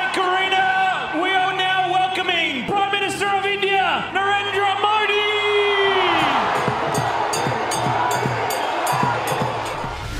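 Huge stadium crowd of around 20,000 people in Australia roaring and cheering together, with a leader's name chanted and shouted, loud and continuous with no pauses throughout.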